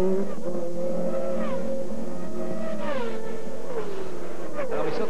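An Indy race car at the 2002 Molson Indy qualifying runs with a loud engine whose pitch swoops and glides as it revs, while someone talks over it.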